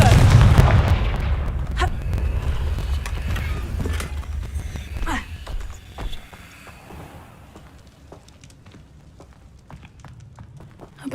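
Fire spell explosions from the Confringo spell in the Hogwarts Legacy video game. Heavy booms rumble loudly at first, then the blasts fade into quieter scattered cracks and clicks.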